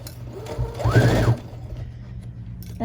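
A sewing machine runs in a short burst to back-stitch the seam of a tote bag, with a whirring, rattling motor close by, then falls quiet before a brief restart.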